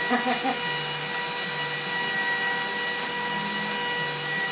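A GlowForge laser cutter running, a steady whirring fan-like hum with tonal whine and periodic motor movements shifting pitch, constant and fairly close.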